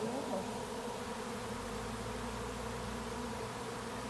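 A honey bee swarm drones around a box as the bees land on it, a dense, continuous buzz that stays steady and fairly loud throughout, with no speech.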